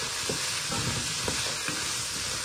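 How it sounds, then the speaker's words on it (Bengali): Chopped garlic and mixed vegetables, including cauliflower, sauté in butter in a pan with a steady, close sizzle. Faint stirring taps sound under it, and no one talks. "আমরা আজকে বাটার দিয়ে ভেজিটেবল সতে করছি।"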